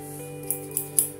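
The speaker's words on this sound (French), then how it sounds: "un outil très utile en aquariophilie, une paire de ciseaux incurvés" A pair of curved aquarium scissors trimming aquarium plants makes three crisp, close snips in quick succession over a steady low hum.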